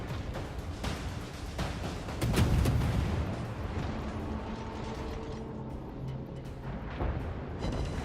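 Naval guns fire from a warship during a replayed sea battle in Blackjack-style online play, heavy booming salvos with rumbling low-end blasts and mechanical clatter, a deep roar building near the middle and continuing throughout.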